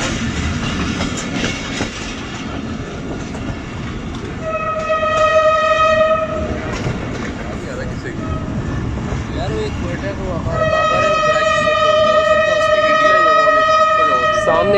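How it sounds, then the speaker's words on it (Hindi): A passenger train's horn blares in two long sustained blasts as it leaves Quetta station toward an unmanned level crossing, over the rumble of the passing train, loud and close, with faint voices underneath. "ट्रेन हॉर्न के साथ पहुंच रही है"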